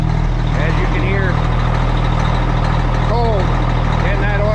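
A custom Peterbilt truck with a Cummins diesel idles steadily after a cold start, a low rumble running throughout, while bird chirps and a voice sound faintly over it.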